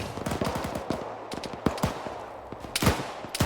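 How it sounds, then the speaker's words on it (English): Bursts of PKM machine gun fire in the Arma 3 video game, rapid sharp cracks in rhythmic strings with a few isolated shots, moderately near and steady throughout with no talk. "Who the hell is firing a PKM at a 70?"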